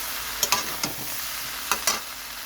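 Jackfruit sautéing with spices in a pan for a prawn dish, a soft background sizzle broken by a few sharp scraping strokes of a spatula against the pan, spaced irregularly.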